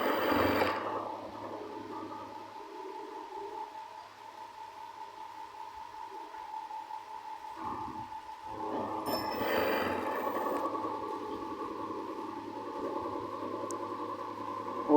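A sewing machine runs steadily, stitching a neckband onto a round-neck t-shirt. It gives a continuous motorized whir throughout, with a brief slowdown near the middle before it picks up again, close and fairly loud, with no talking.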